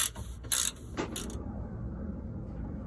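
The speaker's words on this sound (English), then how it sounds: "So you really need to do is remove this bolt, this one here, and this should come out." A hand ratchet removes an upper control arm bolt on a 1969 Oldsmobile Cutlass, a few quick, close clicking bursts over about a second and a half, followed by faint low rustling.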